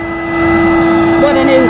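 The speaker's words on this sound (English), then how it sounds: "What an Hoover. Nearly 40 years old." A Henry Hoover vacuum cleaner nearly 40 years old runs steadily close by, giving a continuous motor whine with a droning hum that changes slightly in pitch near the end.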